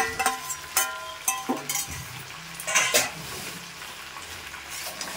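Potatoes and meat are stirred and fried in oil for a Bengali home-cooked dish, with a close, steady sizzle and repeated clanks and scrapes of a metal spoon against the pan. No talk is heard.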